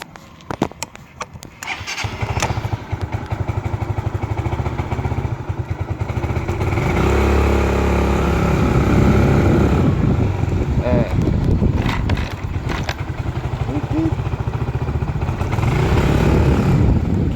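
A Yamaha Mio 125i scooter engine cranks and catches, then settles into a steady, loud close-up idle with a mid-pitched motor hum throughout.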